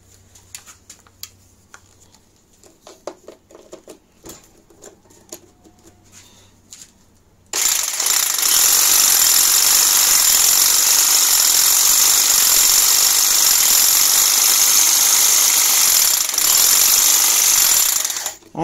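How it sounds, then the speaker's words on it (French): An electric hedge trimmer powered by an Allpowers S700 power station is switched on after some quiet handling clicks, then runs with a loud, steady buzzing drone for about ten seconds before cutting off. "on va brancher le taille-haie"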